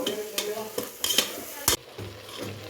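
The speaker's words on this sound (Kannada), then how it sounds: "ಎರಡು ಚಮಚ ಮಸಾಲೆ ಖಾರ ಹಾಕೀನಿ ಹುರ್ಕೊಂಡು" Masala spice powder is stirred and fried in a pot for egg biryani, a close, soft sizzle broken by several sharp scrapes and clinks of a metal spoon against the pan.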